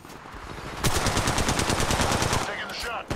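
Rapid automatic weapon fire in Apex Legends Mobile, a loud, tightly spaced burst of close shots lasting about two seconds after a quieter lead-in, then tailing off into softer mechanical sounds.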